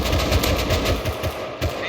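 AK rifle gunfire in the survival video game Rust: rapid, evenly spaced shots fired close and loud in a continuous burst, with a brief pause near the end.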